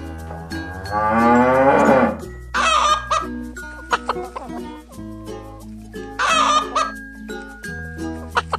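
A cow moos loudly and alone, one long low call, amid animal calls and a short clucking chicken passage from a children's animal cartoon, with plinking music underneath.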